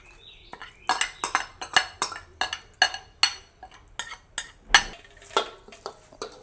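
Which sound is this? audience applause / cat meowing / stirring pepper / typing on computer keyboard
stirring pepper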